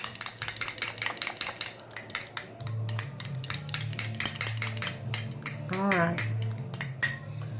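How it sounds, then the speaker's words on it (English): A fork beating quickly against a bowl, a rapid run of bright metallic clinks and taps, close and steady, while a person speaks briefly over the mixing. "I'm just going to take a fork, because I really only need about a teaspoon. But I'm just going to mix this up."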